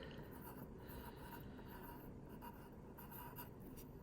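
A pen writing on paper while labelling a legend on a Twin Cities Metropolitan Area map: soft, close scratching strokes in short irregular bursts, faint and continuous, with no talking.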